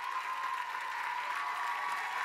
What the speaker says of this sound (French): On applaudit nos invités de ce soir.